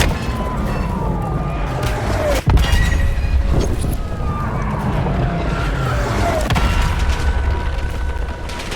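An enemy grenade goes off in Call of Duty Black Ops 7 with one sharp, heavy boom partway through, set against continuous rumbling game ambience and mechanical noise.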